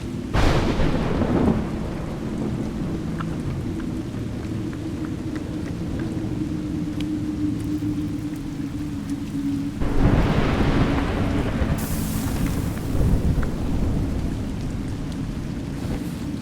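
Rainstorm with thunder in the video game A Juggler's Tale: a steady hiss of rain with low rumbles, a sharp thunderclap near the start and another heavy roll around the middle.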